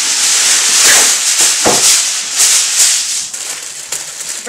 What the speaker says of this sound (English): get some foil.